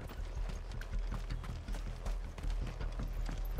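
Horse hooves clip-clop steadily in Final Fantasy XVI, a continuous rhythmic trot of close, moderately loud steps against a dense game soundscape, with no talk over them.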